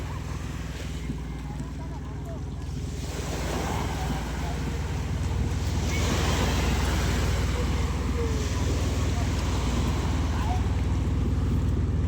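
Sea waves and wind at a seaside fish terminal in Tanza, Cavite, with calm water washing steadily throughout and wind buffeting the microphone, under faint background voices.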